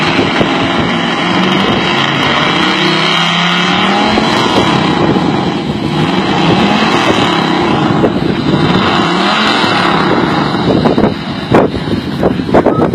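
A Chevy Camaro's exhaust roars steadily at an outdoor exhaust contest, loud and sustained with some wind buffeting and crowd noise.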